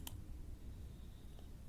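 A single soft mouse click on an OK button in Collections MAX administrator software, quiet and brief against a faint room hiss, with a fainter tick near the end.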